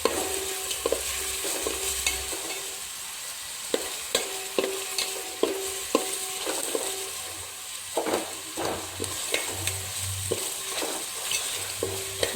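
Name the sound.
stirring spices and curry leaves frying for egg biryani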